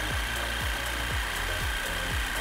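An AEG BST18X cordless jigsaw cuts wood with pendulum action, a steady motor whine over rhythmic low strokes repeating about twice a second, close and continuous, no talking.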